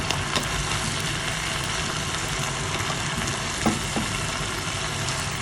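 Kangkong (water spinach) frying in a hot pan for adobong kangkong, a loud steady sizzle with a low rumbling background and a couple of brief clinks, no speech.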